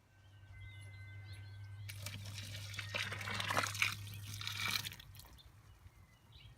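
Scalding water pours into a container over osnaburg fabric being scoured, a splashing gush that builds and then tapers off, faint and close, after a low steady hum.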